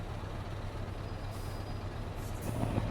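A Scania 143M truck in the Euro Truck Simulator game, its low engine drone running steadily before a short hiss of air brakes near the end; no speech.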